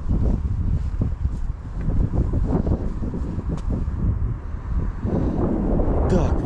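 Outdoor wind buffeting a microphone near a pier and Ferris wheel, a loud, continuous low rumble and roar under a person talking.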